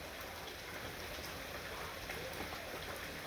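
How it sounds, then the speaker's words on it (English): Steady rain falls outside near a porch, a dense even hiss of drops hitting surfaces that stays constant and fairly quiet throughout, with no speech. "It is raining once again, and it is Friday."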